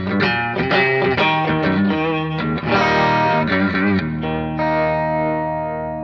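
Distorted electric guitar chords and licks played continuously through a BOSS GT-1, wrapped in a spacious 2.1-second hall reverb that lets the final chord ring out.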